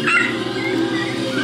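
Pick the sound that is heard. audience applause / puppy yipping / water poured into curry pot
puppy yipping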